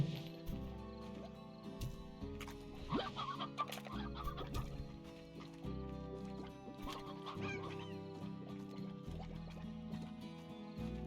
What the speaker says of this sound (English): It's a chicken, it's a chickie